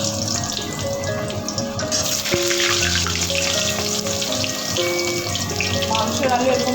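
Potatoes going into hot salted oil in a home kitchen, a loud, steady sizzle and crackle of frying running throughout, close by, with occasional clinks of utensils.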